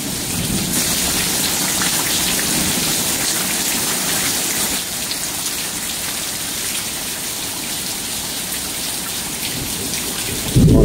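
Heavy rain pours steadily through a thunderstorm in Lufkin, Texas, a loud continuous wash with a sharp shift midway as nearby thunder rumbles in, and a sudden loud crack of a close lightning strike right at the end.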